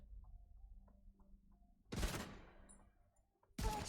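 M1A rifle shots in The Division 2, two sharp loud reports about a second and a half apart, each trailing into a brief echoing decay over quiet game ambience.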